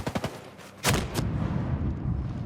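Gunfire in Ghost Recon Breakpoint, a video game: a quick burst of several sharp shots, then two loud heavier reports followed by a rumbling decay.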